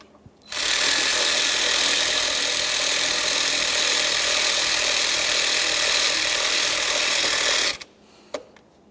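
A power tool whirs steadily for about seven seconds, loud and close, as it backs out the 13mm bracket mounting bolt on a 2.4L four-cylinder Jeep Patriot engine, then stops abruptly with a faint click after.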